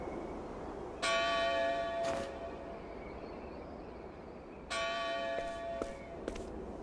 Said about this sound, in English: That's the Bell of Dawn.